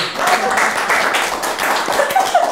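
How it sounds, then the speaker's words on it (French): Audience applause on a regional French magazine show, a short burst of close clapping with faint voices murmuring underneath. "On peut l'applaudir, hein."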